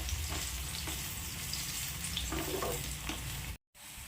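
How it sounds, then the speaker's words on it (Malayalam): Ripe plantain pieces for a dessert sauté in ghee in a pan, with a steady, close sizzle and faint stirring scrapes that run throughout before a brief cut. "എന്നിട്ടിത് 1 മിനിറ്റോളം ഒന്ന് ഈ നെയ്യിലൊന്ന് വഴറ്റിയെടുക്കാം"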